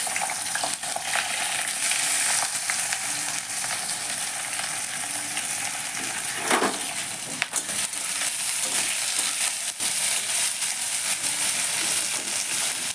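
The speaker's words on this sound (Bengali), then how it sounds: "তেলটা দেওয়ার পরে এবার আমি দেবো এর মধ্যে কুচনো পেঁয়াজ" Chopped onion fries in hot white oil in a wok, a steady, dense sizzle and crackle that holds evenly throughout with a few faint stirring scrapes and no talking.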